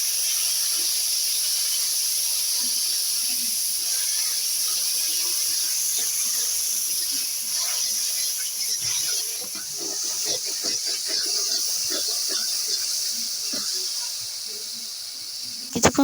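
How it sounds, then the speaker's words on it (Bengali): Taro stalks fry in a pan with garlic and dried chili, a steady soft hissing sizzle throughout with scattered crackles and stirring scrapes that grow busier toward the end. "এরপর এগুলো ভাজতে শুরু করলাম।"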